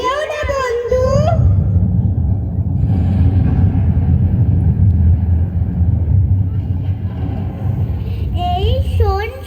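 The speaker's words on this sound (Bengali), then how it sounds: "মেঘ ডাকছে, ঝড় বৃষ্টি হতে পারে" Thunder rumbles before a storm as a long, steady, deep roll that fills most of the moment, with voices briefly heard at the start and again at the end.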